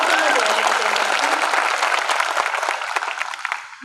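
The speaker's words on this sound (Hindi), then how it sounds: "एक बार ताली बजा के बताओ तो मैं जवाब दूंगा।" A live audience at a Hindi poetry recital claps together in a loud, dense burst of applause that holds steady, then thins into scattered claps as it fades.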